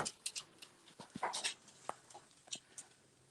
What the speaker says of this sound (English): Hey, puppy, watch out.